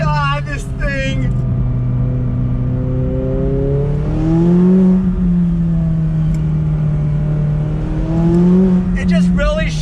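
McLaren 570S Spider launching under launch control, its engine holding a loud steady drone that climbs in pitch through the gears, with someone talking excitedly over it near the start and end.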